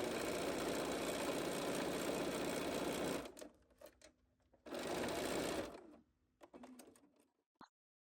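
A sewing machine runs at a steady hum while stitching fabric for a pillow cover, two long close bursts separated by a pause, then a few short stuttering runs and a single tap.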